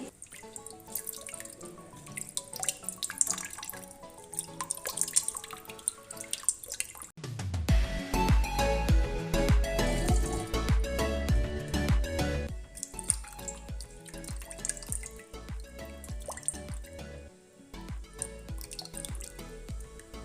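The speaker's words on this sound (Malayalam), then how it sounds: "ഒരു തവണ അരിച്ചതിന് ശേഷം ആ തേങ്ങ എടുത്തിട്ട് വീണ്ടും നമ്മൾ 1/4 ലിറ്റർ വെള്ളം കൂടി ഉള്ളത് ഒഴിച്ചിട്ട്" Liquid drips and trickles while ground coconut is strained with water by hand in a home kitchen, a steady close run of dribbling and splashing that swells noticeably partway through.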